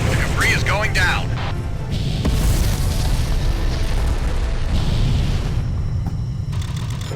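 Explosions in a space battle video game rumble as deep, sustained booms and crackling blasts under a continuous noisy mix, with voices speaking over the action.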